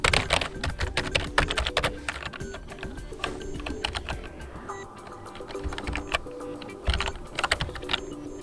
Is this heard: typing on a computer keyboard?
yes